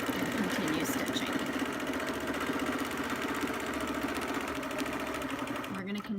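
A sewing machine stitches a clamshell quilting design on a quilt, running at a steady, rapid mechanical patter and stopping just at the end, with a person talking over it.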